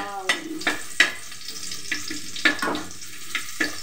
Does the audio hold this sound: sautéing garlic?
yes